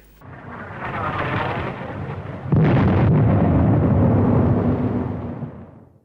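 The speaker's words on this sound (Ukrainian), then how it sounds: "Момент потужного удару по Нікополю зафільмували міські камери спостереження" A powerful missile strike on the centre of Nikopol, captured by city surveillance cameras, gives a distant rumble and then a sudden heavy blast roaring loud for several seconds before fading, with no talk.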